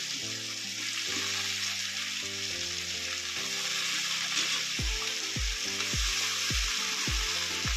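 Brinjal pieces tossed into raw prawns frying in a pan with onions and green chillies give a steady, continuous sizzle that runs the whole time beneath prominent background music, with no talking.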